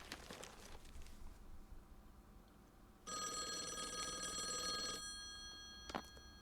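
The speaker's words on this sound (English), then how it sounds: "My phone was ringing." A telephone rings in the video game Call of the Elder Gods, a bright electronic ring with steady harmonic tones lasting about two seconds, followed by a short clack, with no talking.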